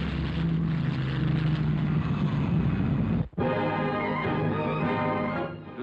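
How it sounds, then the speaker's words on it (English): A loud, steady drone of a turboprop aircraft engine, with a brief dropout midway before the roar resumes. "Here is another new means of propulsion, the turbine propeller."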